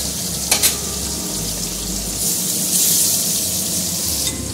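Topse fish frying lightly in a pan gives a steady, moderately loud sizzle with a watery hiss that swells and fades, and a couple of faint taps near the start.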